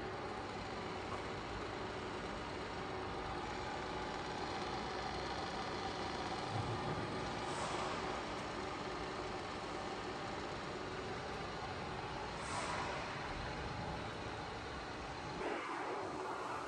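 A Csepel RF 50/1250 radial arm drill runs at its maximum feed in a steady mechanical hum with a few brief swells, moderately quiet and continuous, with no speech.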